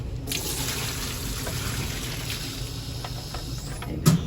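Used cleaning chemicals are poured from a container into a sink, giving a steady, moderately close rush of splashing liquid that runs throughout, with a brief knock near the end.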